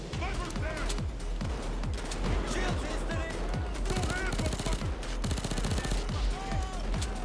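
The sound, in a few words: Valkyria rifle (AS Val) gunfire in video game Payday 2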